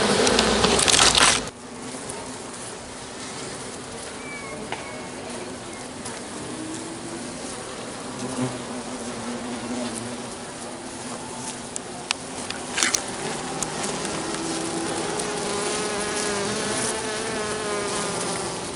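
Continuous buzzing of many honeybees from a swarm kept in a shoebox and hornets attacking them, droning close by, with a loud rustle at the start and occasional clicks.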